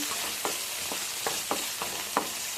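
Green chillies fry in hot oil in a pan for a mushroom fry, a constant close sizzle punctuated by about six short scraping strokes of a stirring spoon.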